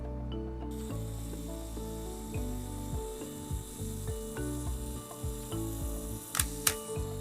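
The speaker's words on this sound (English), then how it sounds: "So that is self timer for a manual camera." Self-timer on a Pentax K1000 manual film camera running its wind-down: a steady, close mechanical whirring buzz with small ratchet clicks, ending in a couple of sharp shutter clicks near the end, with no voices.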